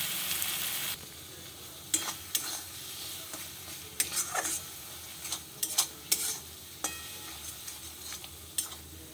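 Spices with kasuri methi, garam masala and cashew paste sautéing in a pan for paneer peshawari, a low continuous sizzle broken by repeated irregular scrapes and clacks of stirring utensil, fairly close; no voices.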